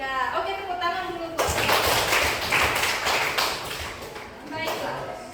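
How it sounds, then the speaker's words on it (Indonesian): A classroom of students claps their hands during a lesson, a few seconds of dense, lively applause that starts abruptly after a voice and fades as talking resumes. "tepuk tangan dulu"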